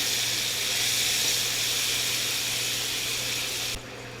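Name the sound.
thinly sliced onions sautéing in a hot pan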